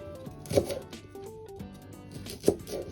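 A knife cuts cross-shaped slits into young rakkyo shallots with sprouts, giving two soft, separate cutting taps, quiet under light background music.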